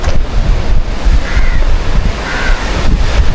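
Sea waves wash against the Konkan shore near Jaigad, a loud churning surf mixed with strong wind buffeting the microphone, swelling and easing in close, uneven surges.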